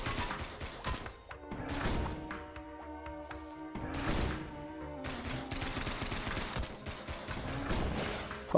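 Weapon fire in the action game Risk of Rain Returns, rapid repeated shots with heavier blasts and impacts rising and falling over a layered game soundtrack.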